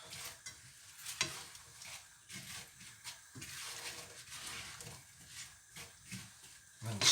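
Rhubarb with orange zest and juice is stirred in a pot, giving close, soft scraping swishes in an irregular rhythm over faint sizzling, with quiet talk.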